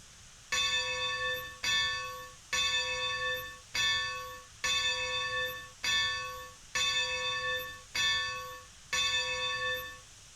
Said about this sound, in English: a sound test, both of the bell and the whistle of each locomotive